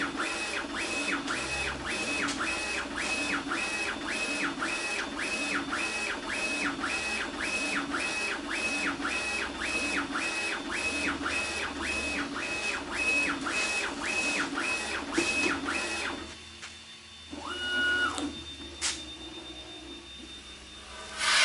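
A UV printer running a color flag test print, its print head carriage sweeping back and forth in a steady repeating rhythm with whirring motor tones, close and continuous for about sixteen seconds before stopping, followed by a few brief mechanical movements.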